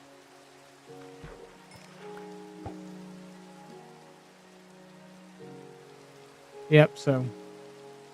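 Rain falling in the Minecraft video game, a soft steady patter under quiet background music, with a short burst of talk near the end.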